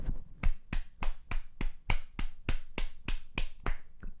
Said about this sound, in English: I'll do a little clap for you